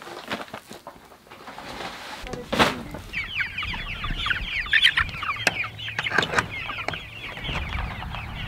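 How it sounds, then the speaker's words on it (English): Chickens cluck and chatter steadily on a homestead farm, a busy flock close by with overlapping calls and scattered bumps and clatter of handling in the background. "Need to feed these chickens, and then move their chicken tractor for the second time."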